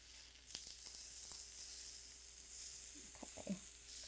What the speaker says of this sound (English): I'm gonna brown them a little more today.